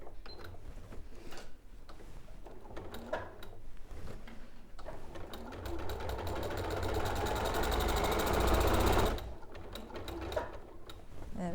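An Elna 680 Plus sewing machine stitches a quilted jacket, starting with short stop-start bursts, then running in a steady, fast, rattling whir for several seconds before slowing back to intermittent stitching.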